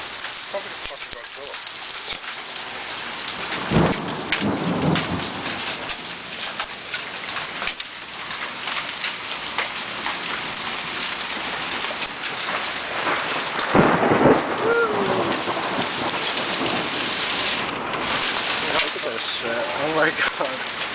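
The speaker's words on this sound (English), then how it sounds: "You can hear the hail." Hail pelting down in a heavy storm with rain, a dense constant rattle and hiss broken by rumbling thunder bursts; people murmur faintly now and then beneath the downpour.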